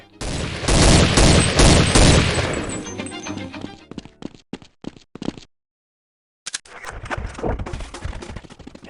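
Gunfire in a video game as targets on a map are shot, a dense loud volley for the first few seconds, then scattered sharp single shots, a brief silence, and a renewed stretch of shooting.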